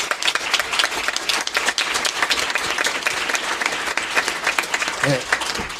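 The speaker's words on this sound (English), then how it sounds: "a round of applause for the volunteers that are working this weekend" Audience applause at a writers' festival keynote session, a dense wash of many hands clapping steadily throughout, loud and sustained with a brief voice near the end.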